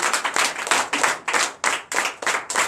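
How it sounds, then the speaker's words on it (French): Congregation clapping in unison during a Sunday worship service in a church in Benin, loud rhythmic claps in a steady beat of roughly three per second, close and full, with no talk over them. "Donnez l'acclamation à notre Seigneur Jésus."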